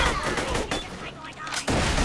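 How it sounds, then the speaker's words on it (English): Gunfire in the Borderlands: The Pre-Sequel shooter game, loud and dense, with overlapping shots and blasts that briefly drop off before the firing resumes. "What am I being shot from?"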